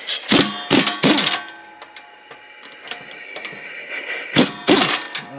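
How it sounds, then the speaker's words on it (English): A wrench on a 9/16 swivel extension working bolts out of a Briggs & Stratton engine during a cam shaft replacement: paired bursts of sharp metallic ratchet clicks at the start and end, with quieter scraping and tapping between. "we're gonna go in here and we're gonna get these bolts out"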